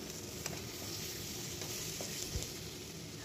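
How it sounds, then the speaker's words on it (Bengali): Spice masala with tomato fries in oil in a home kitchen, a faint, even sizzle with an occasional soft stir or tap, heard from a little distance with no one talking. "আমার মশলাটা তেলে ভালোভাবে কষানো হয়ে গেছে, মশলা থেকে তেল ছেড়ে দিয়েছে।"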